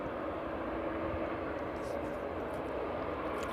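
A Swift Air ATR turboprop airliner flies inbound over Kegworth toward East Midlands Airport, a steady, faint, distant engine drone that holds evenly throughout.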